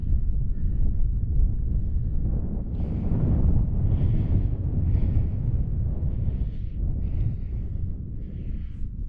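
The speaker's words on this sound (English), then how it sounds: "that wind's cold" Cold wind blows hard and steady across an open wild camp, a loud rushing roar buffeting the microphone with gusty surges throughout.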